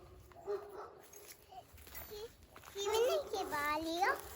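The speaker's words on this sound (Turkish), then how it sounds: "Ne kadar havlıyor komşumuzun köpeği." A neighbour's dog barks a few times in a rural orchard setting, the short barks fairly distant and mixed with someone talking nearby.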